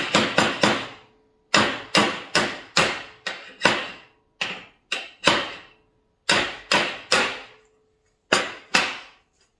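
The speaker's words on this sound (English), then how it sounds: "I've got a piece of hardened steel that is quite sharp on the edge. It's great for chipping, so we'll try and chip that off." Sharp metallic hammer strikes on a piece of hardened steel held to chip metal off, about twenty crisp ringing blows in quick clusters with short pauses between, close and loud with no talk.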